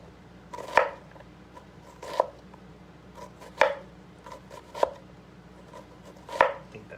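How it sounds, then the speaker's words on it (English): A knife chopping red onion on a cutting board for potato salad, five distinct sharp knocks at irregular intervals, close and clear over a quiet background hum with no talking. "just gonna slice this up so I can get a nice fine mince on it"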